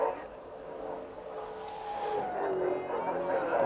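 Touring car lapping the Bathurst circuit on a one-lap trial, its engine a steady, rising drone heard from a distance that builds slightly toward the end.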